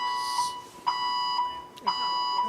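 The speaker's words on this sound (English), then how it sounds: "Really? That's the fire alarm." An electronic fire alarm sounds in a school committee meeting room, repeating a steady tone with sharp pulses roughly every half second, loud and continuous with no speech over it.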